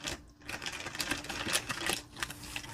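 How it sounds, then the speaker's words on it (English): Plastic wrapping crinkles and crackles as it is peeled off a diamond painting kit, with a continuous run of close, irregular crisp rustles and snaps and no talking. "Apologies for all the crinkle sound."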